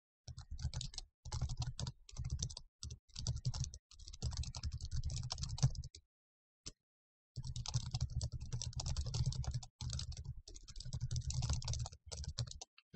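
Answers typed on a computer keyboard, close rapid bursts of clicking keystrokes in uneven runs, pausing for about a second midway before resuming.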